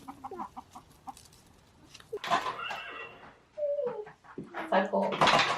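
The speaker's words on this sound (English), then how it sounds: "I think the chickens are starting to get used to us coming around" Backyard chickens cluck and squawk nearby in short, irregular bursts, some louder calls standing out, with a person talking over them.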